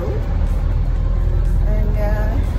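Inside a moving bus, a steady loud engine and road rumble fills the cabin, with faint rattles and a brief muffled voice underneath.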